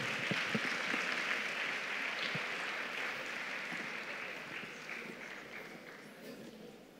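An audience at an annual conference applauds a panel, with dense, steady clapping from a large crowd that fades slightly over several seconds, some voices faintly audible underneath.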